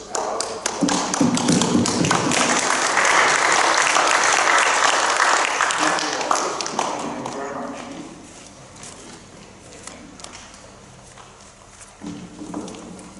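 Applause from attendees at a monthly board meeting, a dense burst of clapping that swells for several seconds, then thins and fades into quieter room noise with a few scattered claps near the end.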